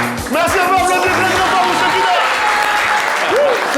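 A studio audience on a live French-language talk show applauds for a guest named Shekina, a sustained crowd roar mixed with cheering voices and shouts, with a speaking voice heard over it at the start.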